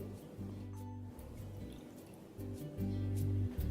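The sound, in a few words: pouring water to dilute vinegar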